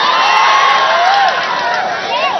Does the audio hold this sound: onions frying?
no